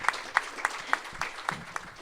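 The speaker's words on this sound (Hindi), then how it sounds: "प्राची के लिए जोरदार ताली बजा" Rhythmic clapping at a talk, about eight evenly spaced sharp claps in two seconds, close and fairly loud, with no voice over them.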